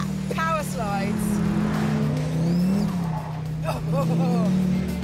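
Donkervoort D8 GTO engine working hard on the throttle, a steady loud drone with rising and falling pitch as the rear steps out, while a presenter talks over it.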